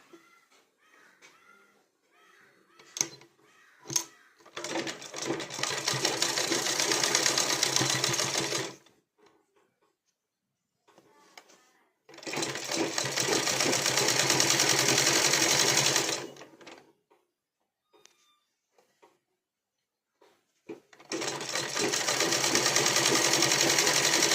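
A sewing machine stitching a blouse runs in three long, loud bursts of fast mechanical whirring, separated by quiet pauses filled with small clicks and handling of fabric.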